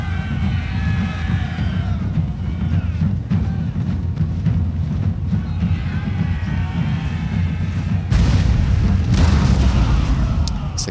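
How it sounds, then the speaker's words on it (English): Grape shot artillery in a France versus Sicily video game battle fires as repeated deep booms and rumbling bursts over continuous battle din, with a louder blast of noise near the end. "So I'll probably just be able to lay down some grape shot."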